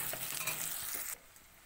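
Spice paste with turmeric sizzles and is stirred in a hot pan for a Bengali prawn malai curry, a loud steady frying hiss that drops sharply in level near the end.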